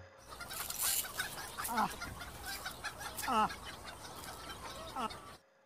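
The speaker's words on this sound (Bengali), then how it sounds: "তাই একটা কাকু সকালবেলায় মুরগিদের কিছু খাওয়াচ্ছেন।" Chickens clucking and calling while being fed in the morning, several close, short rising clucks over a steady background hiss, without clear speech.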